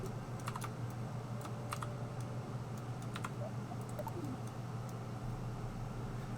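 Typing on a DOS Keyboard Professional computer keyboard: a run of irregular, faint key clicks over a steady low background hum, with no talking.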